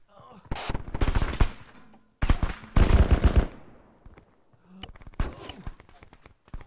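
Rapid bursts of automatic gunfire from a PMC video game shooter come in loud, uneven volleys with short gaps between them, mixed with shouted voices.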